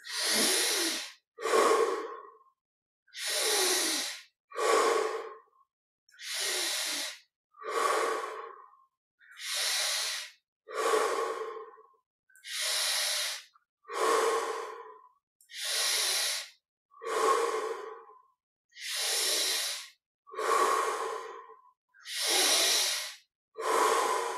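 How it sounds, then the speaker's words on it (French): Slow, deep yogic breaths during a guided yoga session, each inhale and exhale heard as a steady airy rush, about a dozen even cycles separated by short silences, close and clear with no talking. "on observe ces 20 respirations profondes"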